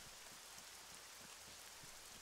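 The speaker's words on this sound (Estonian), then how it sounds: "Vihma ka saab mängus, see ei ole tore." Steady rain in Arma 3, a soft, even hiss of falling drops with faint patter on surfaces, continuous and quiet throughout with no voices.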